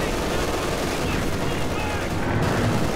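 Gunfire rattles through a dense battlefield mix in a Company of Heroes 2 match, with anti-tank gun shots in a continuous loud wash of combat noise.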